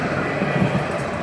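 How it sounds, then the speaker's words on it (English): Tram rolling past on tracks in central Nottingham, a steady loud rumbling drone with faint metallic rattles, close by and continuous for the whole moment. "the tram going past"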